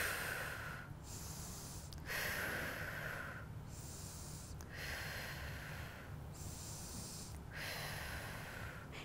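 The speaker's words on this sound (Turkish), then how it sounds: "Dinlenirken burundan nefes alıp ağzımdan veriyorum." Slow, steady breathing, in through the nose and out through the mouth while resting between exercise sets, with four or five audible breath cycles, each a soft airy inhale followed by a longer exhale, close and alone.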